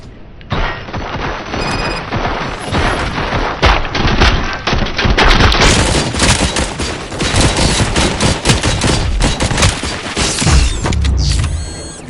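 Sustained gunfire and mechanical clatter from a firefight in the Robocop Rogue City video game, with dense rapid shots and booms running loud and continuous for the whole stretch.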